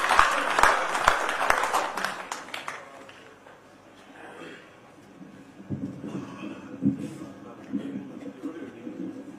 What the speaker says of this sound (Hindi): एक बार सारा सदन एक बड़े व्यंग्यकार को जोरदार तालियां